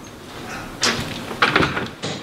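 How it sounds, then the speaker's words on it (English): A house door slams shut with a sharp bang, followed by a couple of further knocking thuds and rattles at close range. "Stop slamming the door. It shakes the house."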